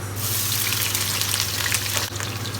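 Onions hit hot oil in a cooking pot and sizzle, a loud continuous hissing and crackle that holds steady under a low background hum, with no talking.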